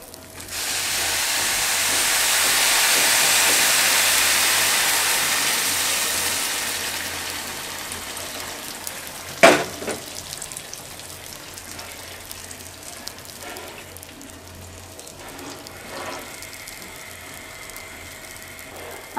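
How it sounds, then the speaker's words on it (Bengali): Hot water goes into a pan of fried rice and lentils for beef khichuri, raising a loud steamy hiss for several seconds that fades away, followed by a sharp metallic clank and quieter kitchen sounds. "চালটা আমাদের খুব ভালোভাবে ভাজা হয়ে গেছে, এর মধ্যে আমি দিয়ে দিব গরম পানি"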